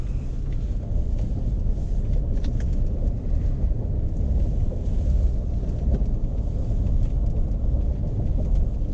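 A Lexus LX570 SUV accelerates hard on a neighborhood road, giving a loud, steady, low engine and road rumble that fills the whole stretch without a break or any talking.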